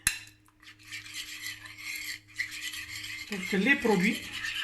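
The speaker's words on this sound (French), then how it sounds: "Je mélange les éléments pour les homogénéiser un tout petit peu" Ingredients stirred together in a bowl with a utensil give a soft, steady scraping and rubbing. The sound is faint at first, then grows into louder clinking strokes near the end.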